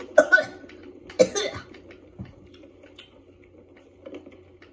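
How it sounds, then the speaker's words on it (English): A person coughing a few times close to the microphone while playing Sea of Thieves, sharp bursts spaced about a second apart followed by quieter clicks and faint breathing. "That was a real life cough, by the way, if you were wondering."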